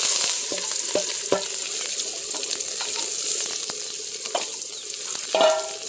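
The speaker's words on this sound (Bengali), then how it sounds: "গরম তেলের ভিতরে সেই মশলাগুলো দেওয়া হয়েছে" Cumin paste, garam masala and bay leaves fry in hot oil in a kadai, a steady sizzling, crackling hiss broken by a series of sharp pops and spatters as the pan is stirred.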